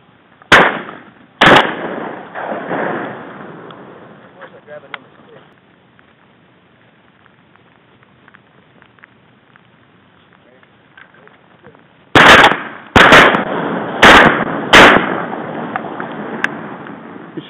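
Shotgun blasts during a duck hunt in South Carolina, two sharp shots early and a rapid cluster of four or five more near the end, loud and close over outdoor ambience, with people talking between volleys.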